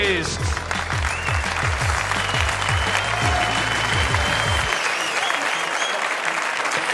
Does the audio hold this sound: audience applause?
yes